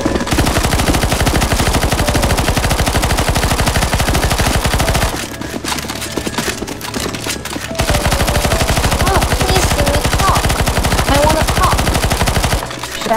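Rapid automatic gunfire from the video game CS:GO Zombies, loud and sustained nearly throughout, with a short lull in the middle before the bursts resume.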